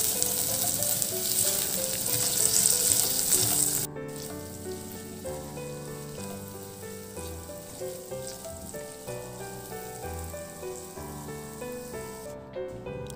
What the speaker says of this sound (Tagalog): isabay na natin gisa sa ating ginger hanggang sa maglabas lang yung aroma ng ating luya at saka sibuyas